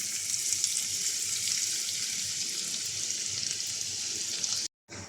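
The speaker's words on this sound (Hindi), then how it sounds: "हम प्याज को गोल्डन ब्राउन फ्राई कर लेंगे" Chopped onion frying in a pan, a steady, close, bright sizzle that holds for several seconds and then briefly cuts out, with no one talking.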